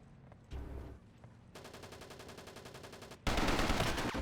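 Gunfire in the WW2 Online video game: a single shot, then a fast burst of evenly spaced automatic rounds, ending in a loud close blast of noise.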